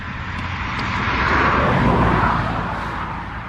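An Aprilia Tuono motorcycle engine and exhaust rev up in one loud, rough roar that swells to a peak and then eases back, with no talking over it.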